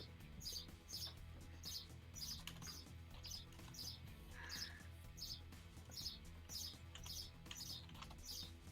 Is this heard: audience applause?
no